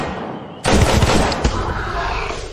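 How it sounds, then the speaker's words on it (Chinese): Gunfire in a drama, a sudden loud burst of several rapid shots with a sharp crack partway through and a lingering reverberant tail. "这是枪声"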